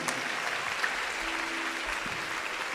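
A church congregation applauds during a Catholic homily, steady dense clapping filling the room from start to finish, moderately loud and even throughout.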